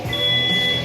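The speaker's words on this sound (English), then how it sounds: "disregard the beeps coming up" A workout interval timer sounds an electronic tone, a single steady high-pitched beep held through most of a brief moment, alone without talk.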